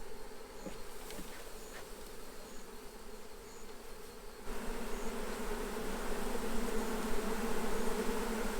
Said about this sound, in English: There's some bees huddled up around this corner. They're all making combs still.